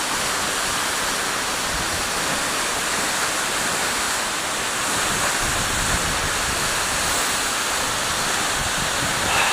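Seljalandsfoss waterfall in Iceland roars as a loud, dense, unbroken wash of falling water, close and constant, with wind buffeting the microphone and no talking.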